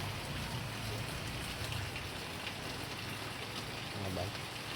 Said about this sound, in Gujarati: આજે વરસાદ ચાલુ થઈ ગયેલો છે